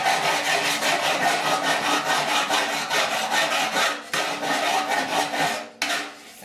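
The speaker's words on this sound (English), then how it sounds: "putting a file on these welds" Hand file scraping across welds on a severely rusted 1969 C10 core support patch panel, in a rapid run of rhythmic rasping strokes, close and loud, with no voices.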